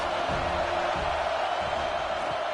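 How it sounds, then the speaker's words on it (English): Stadium crowd roar in College Football 26 as Stanford visits USC, a dense, steady wash of distant cheering that stays at one level throughout, with no clear talk over it. "This crowd trying to make life miserable for this offense."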